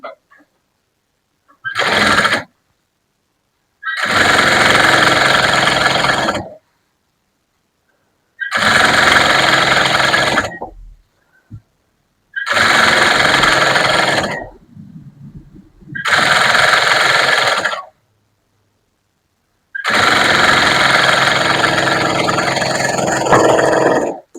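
A sewing machine stitches a blouse in six loud, close runs of rapid mechanical chatter, each lasting a few seconds and separated by near-silent pauses.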